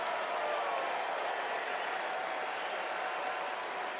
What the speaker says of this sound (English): And again, a nice round of applause for Goldschmidt.